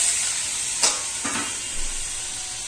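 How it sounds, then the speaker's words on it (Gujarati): Hindi: valor beans and eggplant dropped into a hot cumin tempering in a pan, giving a steady sizzle with a couple of brief louder splashes and stirring scrapes, no voices. "હવે આપણે એમાં વઘારમાં નાખી દઈશું।"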